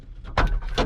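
Plastic radio bezel pried and popped out of a GM truck dashboard, heard as a cluster of close, loud plastic cracks and clunks in under a second.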